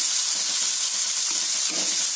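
Loud, steady sizzling and hissing of spice paste frying in a hot pan, with faint stirring scrapes underneath and no talking.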